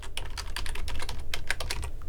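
Rapid, steady typing on a computer keyboard, close and continuous, with irregular clicks and no voices over it.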